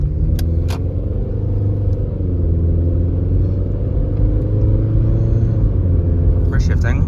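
A Toyota Camry with a U250E transmission pulls hard under acceleration, its steady engine rumble droning loud and close throughout, with a few faint clicks and a person talking over it.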